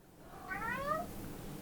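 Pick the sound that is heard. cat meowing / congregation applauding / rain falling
cat meowing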